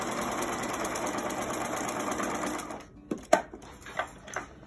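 A sewing machine runs steadily for nearly three seconds, stitching cotton fabric for a surgical-style mask with cloth ties, then stops. A few sharp clicks and handling knocks follow as the fabric is adjusted.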